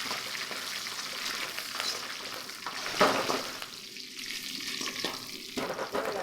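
Curry leaves hit hot oil with browned onions in a pan, giving a steady hissing sizzle throughout, with a brief louder crackle and stirring scrapes partway through.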